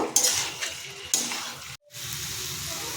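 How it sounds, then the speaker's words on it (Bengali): Fried pumpkin and potato are stirred with spices in a pan, bursts of hissing sizzle with spatula scraping, a sudden brief silence near the end, then a quieter steady sizzle. "মশলার সাথে এটা আমি ভালো করে মিক্স করে নেবো এবং দু থেকে তিন মিনিট"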